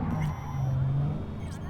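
A car engine hums steadily at low volume while driving in Cyberpunk 2077 Phantom Liberty, a brief in-game motor drone with faint higher tones layered over it.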